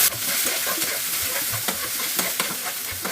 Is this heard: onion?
yes